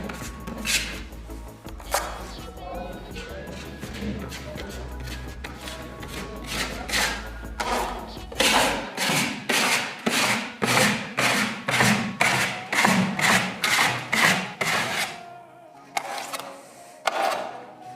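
A stiff DeWALT drywall spatula works joint compound into plasterboard seams with rhythmic scraping strokes, growing brisk and regular midway, with a voice speaking in the background early on.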